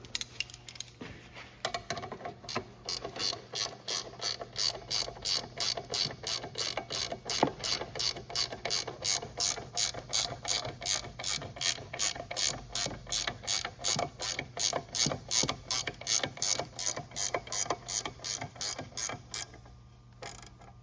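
Ratchet wrench tightening the rear sway bar link nut on a 2007-2014 Ford Edge, using a Mevotech TTX link: a long run of fast, even clicking strokes, close and steady, with no talking.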